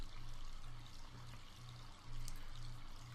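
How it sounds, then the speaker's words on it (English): Water pours from a fountain in a town plaza to refill water skins in the Quest for Glory II adventure game, a steady unbroken stream with a soft repeating low pulse beneath it. "Cool, clear water from the fountain."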